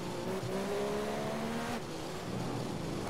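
A Formula 1 car in the F1 2015 video game at the Chinese Grand Prix, its engine revving and shifting through rising whines under a constant road roar.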